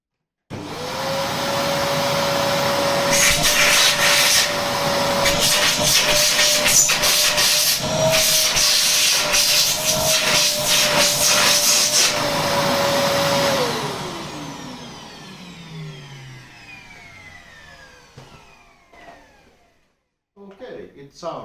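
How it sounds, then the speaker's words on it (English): A turbocharged old Volta F1 vacuum cleaner motor starts up and runs loudly with a steady high-pitched whine, then powers down and slowly winds to silence. "A bit high pitched compared to the original two-stage 1000 watt motor"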